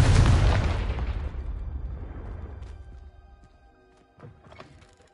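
A fire spell's explosion in Hogwarts Legacy bursts loudly up front, then rolls off into a long fading rumble, with a couple of small thuds and pops near the end.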